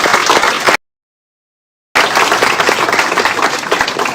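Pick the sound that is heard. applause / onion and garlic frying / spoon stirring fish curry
applause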